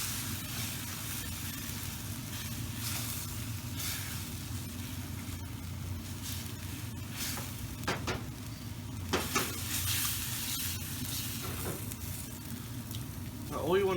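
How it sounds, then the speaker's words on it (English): Beef nacho sauce with kidney beans, beef stock and tomato paste simmers and sizzles steadily in a pan, a continuous low bubbling broken by a few sharp scrapes of a spoon as it is stirred. "stir it through, make sure you get the tomato paste all dissolved, and we're just going to let this simmer"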